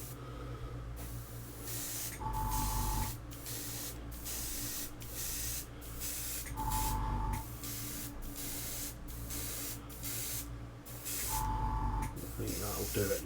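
Short bursts of aerosol spray paint laid as a light coat on a Belkits Hyundai i20 Coupe WRC model kit, three hissing passes of about a second each, close up, with a steady low background hum between them.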